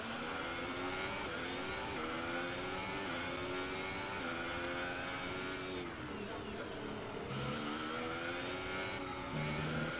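Screaming Formula 1 race car engines in the F1 2018 video game, several whining revs rising and falling steadily and loud throughout, with shifting pitch as cars pass close.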